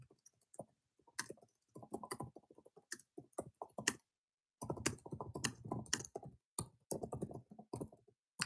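Typing on a computer keyboard, with bursts of quick, close clicks and taps, a short pause near the middle, then more rapid keystrokes; no voices.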